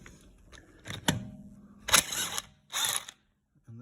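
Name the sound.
locking wheel nut being removed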